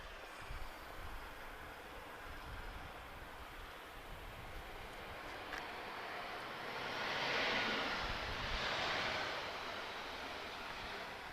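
Iberia Airbus A320-214 jet arriving from Madrid at Lisbon Airport, a faint distant engine rumble that swells into a soft rushing roar as it passes, then fades.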